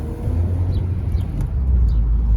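A BMW Z3 AC Schnitzer 1.9 roadster with 140 hp on a road test, a steady low engine and road rumble with wind noise, close and continuous with no talk.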